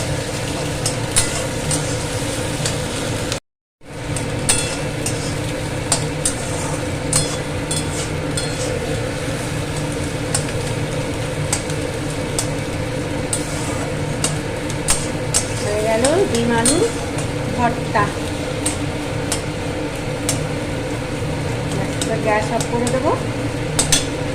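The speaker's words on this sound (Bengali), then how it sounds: "কিছুক্ষণ এভাবে ভাজতে হবে" Leafy greens fry with coconut in a pan under a continuous, fairly loud sizzle, with occasional stirring scrapes and clanks and a brief dropout near the start.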